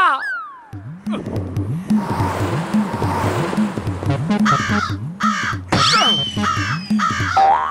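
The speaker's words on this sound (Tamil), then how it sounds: "காக்கா கத்துற சத்தம் கேக்குது" Cartoon crows caw repeatedly in harsh bursts, close and loud, over a rhythmic mechanical pulsing and some background noise.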